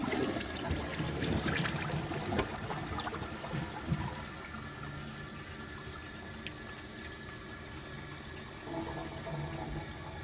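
Water gushes and swirls as a 2012 Glacier Bay one-piece toilet flushes, loud at first, then settling into a softer trickle and refill.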